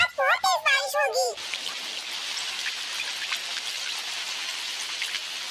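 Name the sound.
heavy rain in a Doraemon cartoon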